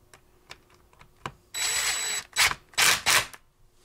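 Bolts are driven into a 2016 Mustang GT steering wheel with a power tool, starting with faint clicks and taps, then a sustained half-second buzz followed by three short, loud whirring bursts close by.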